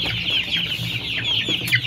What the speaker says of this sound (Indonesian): Ayamnya pada kelaparan tuh